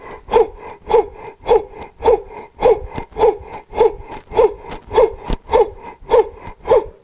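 Rhythmic, forceful breathing during a Cellercise rebounding exercise, about a dozen loud, evenly spaced breaths, close and alone.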